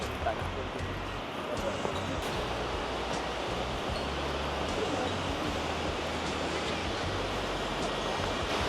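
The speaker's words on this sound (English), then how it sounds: "It's very beautiful and peaceful with the sound of the waterfall in the background." A waterfall near Lake Brienz, Switzerland, heard beside a trail as a steady, broad rushing roar that stays constant throughout, with low rumble underneath.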